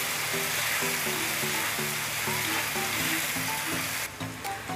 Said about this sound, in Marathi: मंद आचेवरच ह्याला परतवून घ्यायचं व्यवस्थित असं